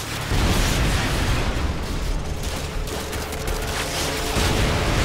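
Javelin missile strike in Call of Duty Modern Warfare 2 on a danger-close target building, with a loud, sustained rumbling blast and roar of explosions and debris filling the whole stretch.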